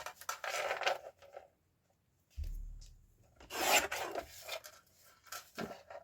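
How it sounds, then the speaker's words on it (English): A piece of card trimmed down for a craft project, close rasping cutting strokes in several short bursts separated by pauses, with a soft thump partway through and no talk. "I'm just going to trim this piece down because I don't want the white edges on it"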